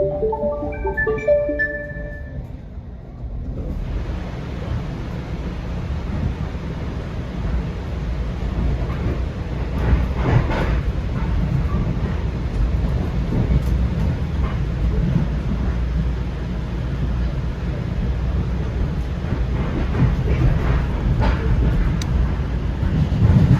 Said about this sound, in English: sound you just heard warns of the train approaching a track diversion.